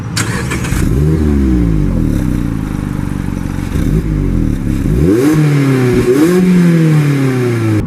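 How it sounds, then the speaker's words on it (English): A 2016 Mazda MX-5 Miata engine roars loudly and close, its exhaust note rising and falling through repeated revs and gear changes as it accelerates. "the exhaust actually sounds a lot louder than I thought it would"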